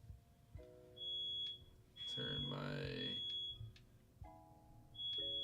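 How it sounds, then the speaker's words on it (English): A smoke alarm beeps in the background with sharp high-pitched tones, while someone talks closer to the microphone. "I don't know if that's loud in the background, if you can hear the smoke alarm"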